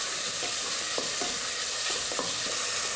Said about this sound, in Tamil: வெங்காயம், வெள்ளைப்பூண்டு, பச்சை மிளகாய் வதக்கிறதுக்காக மட்டும்தான் அந்த எண்ணெய் கொஞ்சம்.